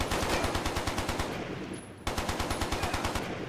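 Rapid machine gun fire in the shooter James Bond 007: Quantum of Solace, one long sustained burst of loud, evenly spaced shots with a brief gap in the middle before firing resumes.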